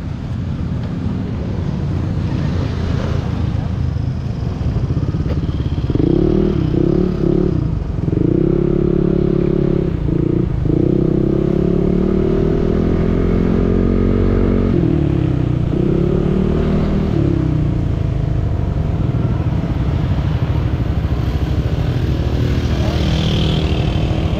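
A motorcycle revs and runs steadily at close range during a test ride, its engine note rising and falling in several bursts over constant wind rush.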